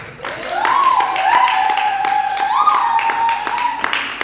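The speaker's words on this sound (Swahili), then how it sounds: "Jaza tena makofi kwa Yesu" A church congregation at a Friday service claps in rhythm with crisp, evenly spaced beats, under a loud sustained melodic line from a voice or instrument.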